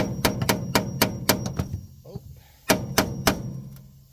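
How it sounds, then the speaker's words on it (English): A hammer taps on a flathead screwdriver to free rusted screws on a Trane commercial package heat exchanger, making a run of sharp metallic knocks at a steady pace, a short pause, then more taps. "flathead, hitting them with a hammer, and it's slowly but surely working"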